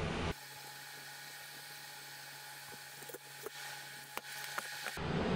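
A power driver whines steadily as screws go into a Polaris 380 pool cleaner, with a few small clicks and knocks near the end. The sound is faint and close, with no talking.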